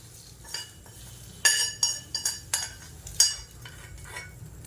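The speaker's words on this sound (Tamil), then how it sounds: "கொஞ்சம் தாளித்து வச்சுருக்கிறத இதில் கொட்டிக்கலாம்" Spoon clinks against a bowl as a tempering of mustard seeds and curry leaves is tipped into ground egg chutney: a handful of sharp, close taps spaced unevenly over a quiet kitchen background, with no talking.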